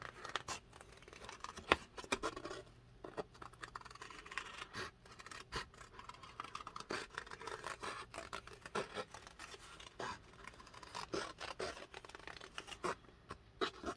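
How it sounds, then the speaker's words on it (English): Small, quiet snips and paper rustles repeat irregularly up close as fussy-cut scissors work slowly around a cut-out shape. "I do have my fussy cut scissors. So we're going to go around it like this."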